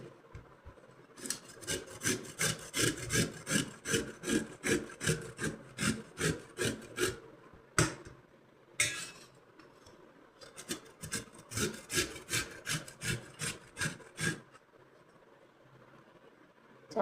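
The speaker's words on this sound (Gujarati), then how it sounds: "ચાલો પહેલાં હવે આપણે ખમણી લઈ કેરીને, રાજાપુરી કેરી છે" Rajapuri mango grated thin on a hand grater, a steady run of rhythmic rasping strokes, close and fairly loud, with a brief pause midway before the scraping resumes at the same pace.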